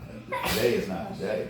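A single sneeze bursts out during a fitness and kickboxing staff meeting, a sharp breathy explosion that comes right after a person speaks, followed by a softer trailing breath.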